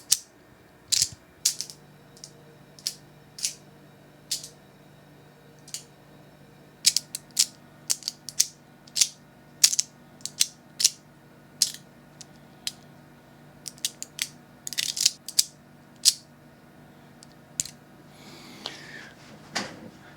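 A mechanical fidget toy worked close to the microphone gives off a series of sharp ratcheting clicks and clacks in uneven bursts, with brief pauses between them, over a quiet background.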